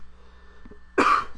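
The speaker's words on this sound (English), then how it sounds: "excuse me for my cough" A single sharp cough bursts out after a quiet stretch with a faint steady hum, loud and close, with no talk.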